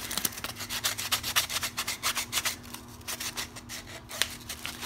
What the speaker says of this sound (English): Little sandpaper now. This is just a little 100 grit.